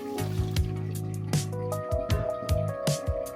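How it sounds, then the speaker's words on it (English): Liquid splashes and gurgles as a bowl used for making kale juice is poured out, with sloshing bursts and a low resonant hum, fairly close. "Pour this bowl out."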